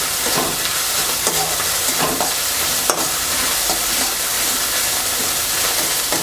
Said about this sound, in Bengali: আদাটা ভাজা হয়ে গেছে পেঁয়াজ দিয়ে দেবো পেঁয়াজ বাটাটা